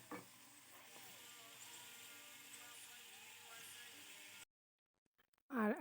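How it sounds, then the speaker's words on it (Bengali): Potato french fries frying in oil at home, a steady fizzing sizzle running through most of the clip before it cuts to near silence, with a brief clatter at the end. "এখানে আলু ভাজা হচ্ছে, এটা ফ্রেঞ্চ ফ্রাই ছেলের জন্য"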